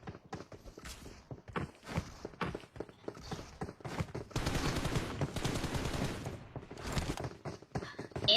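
Gunfire from a gun in a classic video game: bursts of rapid shots and scattered single cracks, loud and close, with brief pauses between volleys.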